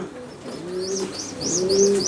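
A racer pigeon from a German fancier's loft coos in a low, rolling, repeated call that swells slightly toward the end, with faint chirps above it and no talking.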